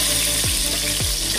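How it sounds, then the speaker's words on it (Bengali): Pointed gourd pieces frying in oil left from frying prawns, seasoned with five-spice, a steady close sizzle broken by two louder bursts as more pieces hit the pan. "পটলগুলোকে দিয়ে দিচ্ছি এবার আমি তেলের মধ্যে"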